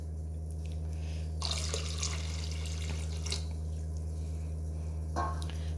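Water pours and splashes into mashed sirukeerai greens while kuzhambu is being made, short bursts of liquid over a steady low hum from a kitchen appliance.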